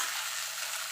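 Chickpeas fry in a pan for Bengali kochur shak, a dry, steady hiss of sizzling oil that stays even and close throughout the brief moment.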